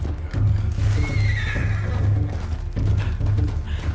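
A horse in the video game Red Dead Redemption 2 neighs loudly and close, with repeated whinnying bursts and hooves clip-clopping underneath, and no one speaking.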